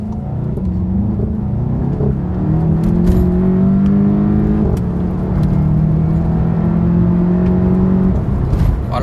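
A VW Golf 7 GTI with its gearbox in sport mode pulls hard from inside the cabin, the turbo four-cylinder engine droning steadily upward in pitch toward the 6000 rpm rev limiter, loud and continuous for about eight seconds.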